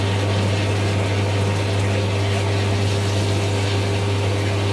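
Running water pours steadily alongside a loud pump-like hum while a dog is washed at a grooming session, a constant close drone with no pauses and no voices.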